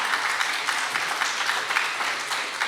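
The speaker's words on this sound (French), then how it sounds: "Applaudissements pour eux, s'il vous plaît," An audience applauds invited guests at a gathering in Les Sables d'Olonne, sustained even clapping from many hands filling the space at moderate volume, with no speech over it.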